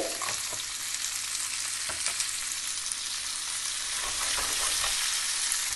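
Onion, sliced garlic and ginger fry in oil in a pan for a Goan king mackerel curry, giving a steady close sizzle with occasional stirring scrapes throughout.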